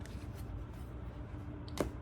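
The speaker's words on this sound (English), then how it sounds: "So I'm going to shuffle real quick" Tarot cards are shuffled in a soft continuous riffling rustle, fairly close and quiet, ending with a sharper snap of cards near the end, with no talking.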